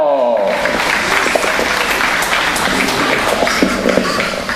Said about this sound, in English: Big round of applause for Chad Tebow.